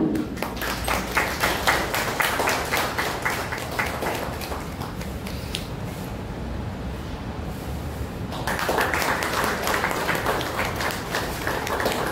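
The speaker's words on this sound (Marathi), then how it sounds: "सर्वांनी टाळ्या वाजवा." A crowd claps at a joint book launch ceremony in Dombivli, a dense, continuous patter that softens midway and swells again toward the end.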